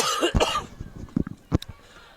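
A single cough bursts out near a sports broadcast commentator's headset microphone, followed by a few quieter throat sounds and brief mumbling.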